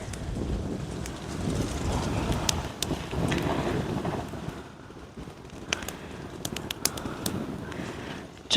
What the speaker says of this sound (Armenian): Քամի չես թողում մարդ խոսա, ձայնս լսվի։